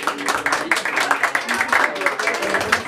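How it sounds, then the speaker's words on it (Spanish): A crowd claps after a birthday song at a mariachi celebration, with steady, fairly close applause running under a talking voice. "Y ese aplauso bien fuerte, bien lindo"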